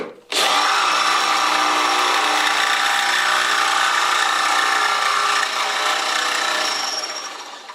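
A power drill bores into a part from a 1993 Ford Mustang GT during a Panhard bar installation, with WD-40 keeping the bit cool; a close, loud, sustained whine and grind runs steadily, then tapers off at the end.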